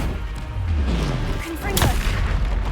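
A blasting spell goes off in the Hogwarts Legacy video game, a loud boom with a sharp whoosh late in the burst, set over a dense, continuous bed of game sound and battle noise.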